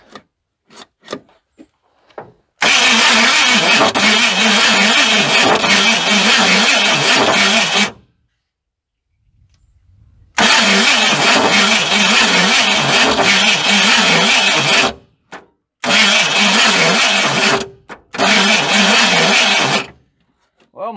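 A Ford F100 pickup's 351 Windsor V8, long neglected and just revived, roars in sustained high-revving bursts as the throttle sticks open, with three loud stretches separated by brief cutoffs and near silence, plus faint clicks at the start.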